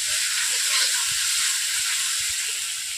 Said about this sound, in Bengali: এরপর রসুন দিয়ে দিচ্ছি। এইভাবে প্রত্যেকটা মশলা ভেজে ভেজে নিচ্ছি।